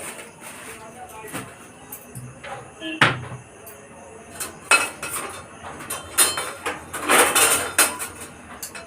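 Whole spices, including coriander, cumin, fennel, cardamom and dried red chilies, stirred in a cooking pan: irregular metallic clinks, knocks and scrapes of a utensil against the pan, some louder clatters, with a voice speaking at times.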